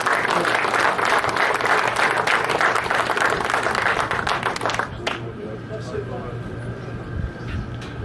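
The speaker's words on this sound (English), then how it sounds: "Let's give him a hand." Applause and clapping from an audience at a dedication for a 1985 state championship high school team, loud and dense for about five seconds, then easing into softer scattered claps and room murmur.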